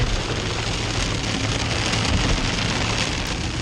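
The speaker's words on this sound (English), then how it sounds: "Intense rain and a lot of standing water." Intense rain falls steadily on the I-15 freeway through a construction zone with lots of standing water, a loud, unbroken hiss with no voices.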